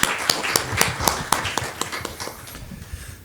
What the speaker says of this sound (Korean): 큰 박수로 다시 한번 교수님 맞이해 주시기 바랍니다